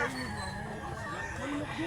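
A gamecock, a fighting rooster of Milsims bloodline, clucks softly nearby on a rural farm, brief low calls under faint outdoor background noise.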